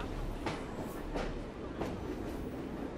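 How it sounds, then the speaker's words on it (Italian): A departing train in the Assassin's Creed Syndicate video game gives off a steady rumbling rail noise, with rhythmic clacks or hisses recurring about every 0.7 seconds and no talk over it. "Il nostro treno se ne sta andando."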